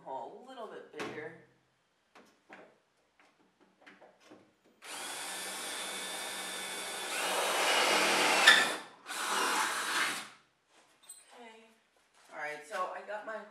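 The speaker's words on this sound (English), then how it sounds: "the hole a little bit bigger." An electric drill enlarges a hole in a Nissan 240SX drift car part, running in two bursts, the second louder and strained as it bites, with brief pauses and a few handling clicks around it.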